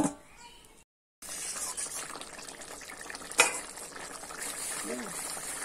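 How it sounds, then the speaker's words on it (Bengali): Water poured into jackfruit curry cooking with fried prawns, with a sharp hiss as it hits the hot pan and then steady bubbling and sizzling, close and continuous after a brief silence. "এরপর একটু জল দিচ্ছি, ঝোলটা দিচ্ছি"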